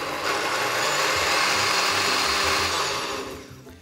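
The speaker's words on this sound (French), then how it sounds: "vous versez simplement le tout dans votre mixeur" A kitchen blender purees boiled courgette, sausage and cooking liquid in one continuous loud whirring roar that holds steady for several seconds, then starts to wind down at the end.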